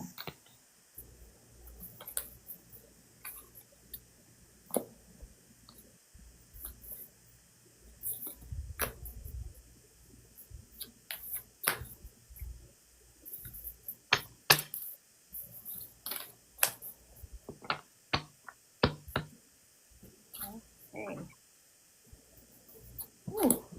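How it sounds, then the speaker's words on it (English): Tarot cards being shuffled: irregular light clicks and soft card flicks, sometimes in quick clusters, over a faint steady hum; no talking. "Lois, we're shuffling cards for you."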